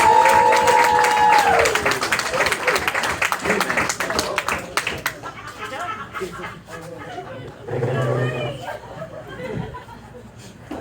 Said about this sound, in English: let's give a round of applause for Mr. Ed Tyll